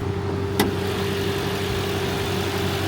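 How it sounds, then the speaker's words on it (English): A British car's twin-turbocharged V8 runs steadily at idle, a low, even drone with a faint higher hum, broken by one brief click near the start. "Let's go ahead and take a look at that glorious twin turbocharged V8."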